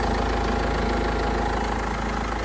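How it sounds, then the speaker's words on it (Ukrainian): A 2005 Opel Vivaro Passenger Long with the 2.5-litre 150 hp diesel sits idling, a loud, steady, close-up rumble with an even mechanical clatter and no voices. "Я думаю, чути, як автомобіль працює."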